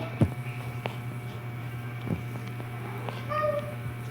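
A cat meows a few times, short cries scattered over a steady low hum, with a couple of brief higher calls near the end.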